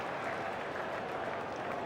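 A large cricket crowd at the SCG during an Ashes Test claps in sustained, dense applause, broad and even throughout with no breaks, heard alone without commentary.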